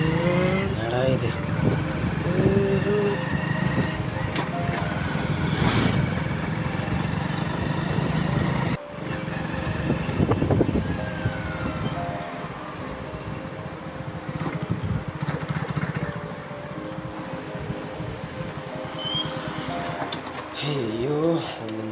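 An old motorbike's engine runs steadily with a continuous mechanical drone close by, while people talk over it throughout.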